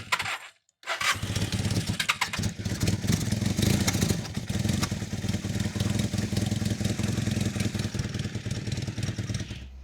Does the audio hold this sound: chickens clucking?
no